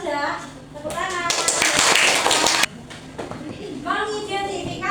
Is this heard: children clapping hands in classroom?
yes